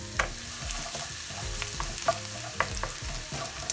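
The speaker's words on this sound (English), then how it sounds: "rapeseed oil in the pan, and I'm going to add chopped garlic" Chopped garlic sizzles steadily in hot rapeseed oil in a pan over medium heat, with a continuous frying hiss broken by a few sharper pops and stirring clatters close by.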